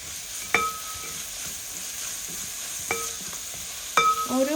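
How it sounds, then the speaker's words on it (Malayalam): Onions sauté in a pan for chicken curry, giving a steady close sizzle broken by a few sharp metal clinks of the spoon against the pan, with no talking. "ഒനിയനെല്ലാം നമുക്കിത് നന്നായി സോട്ട് ചെയ്തെടുക്കാം."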